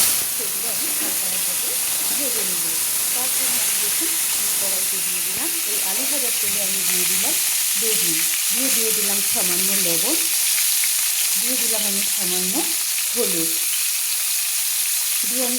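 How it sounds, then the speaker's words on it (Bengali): Long-cut eggplant slices sizzle and hiss steadily in hot oil previously used for frying potatoes, a constant loud fry with someone talking over it throughout. "বেগুনগুলো আমি প্রায় পনেরো থেকে কুড়ি সেকেন্ড হালকা হালকা করে ভেজে নেব"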